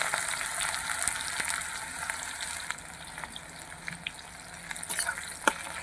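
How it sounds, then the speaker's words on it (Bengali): Onions frying in hot oil with whole black peppercorns and garam masala, a steady close sizzle with scattered pops and crackles that rise near the end, no talking. "এবার আমি পেঁয়াজগুলো ছেড়ে দিই"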